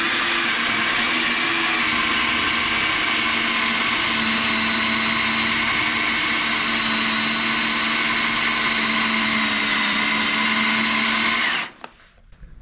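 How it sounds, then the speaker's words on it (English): A sharp Armour Tooling countersink bit cuts into metal under heavy pressure, a loud continuous whine and grinding drone that holds steady and then suddenly stops near the end. "these countersinks from Armour Tooling, which are super sharp, is they like lots and lots of pressure on them"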